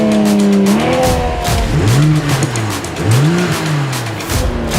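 A Toyota Supra with a 1400 hp 2JZ engine launches in a drag race against BMW cars, including an S58-powered M4. Loud engines rise and fall sharply through quick gear changes, with tire squeal and close, continuous roaring acceleration.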